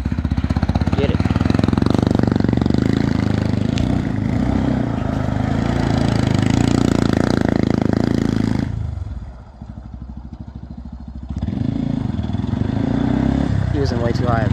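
A vehicle engine revs hard while it does a donut on a track, holding a loud, rough drone that drops away briefly before roaring back, with voices over it.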